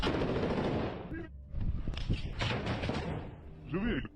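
Gunfire in combat as soldiers inside a building shoot back at assaulting forces, several sharp bursts and thumps at moderate distance in a noisy, reverberant setting.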